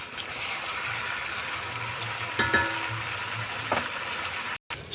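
Vegetables cooked with kachki fish are stir-fried in a pan, giving a constant close-up sizzle with a few clatters from the spatula midway. A short gap of silence breaks the sound near the end.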